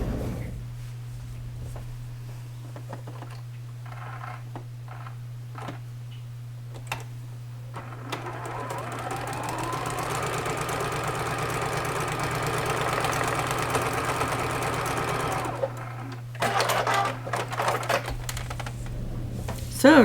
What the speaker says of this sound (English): Let's bring this over to the sewing machine